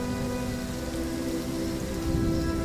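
Steady rain falls over an open field around a small thatched shelter, a dense, continuous hiss with a low humming drone underneath and no voices.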